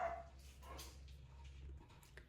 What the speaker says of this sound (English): I do have 2 dogs that are very vocal.